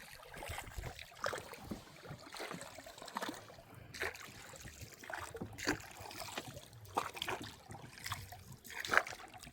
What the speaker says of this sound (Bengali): আমরা নৌকাটা বেয়ে অনেকটা পথ চলে আসলাম।